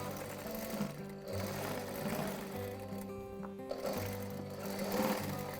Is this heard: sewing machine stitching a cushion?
yes